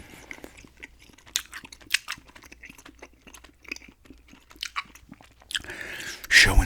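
Close, wet chewing of gum in an ASMR setting, with irregular smacks and clicks of the mouth spread through the stretch, ending in a louder rustle.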